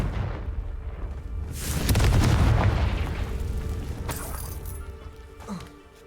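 A Confringo fire spell explodes in Hogwarts Legacy, a loud booming blast that swells over about two seconds and rumbles off into debris and crackling, with a smaller thud near the end.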